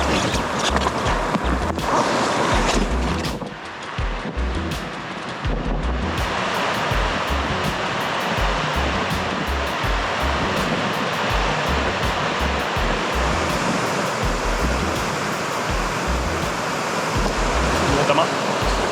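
Ruunakoski rapids on a wild Lapland river roar loudly and steadily, a dense unbroken rush of whitewater close by with a brief dip early on.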